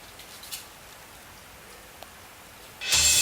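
Steady heavy rain in Pune hissing throughout at moderate level, suddenly swelling into a loud, dense downpour roar near the end.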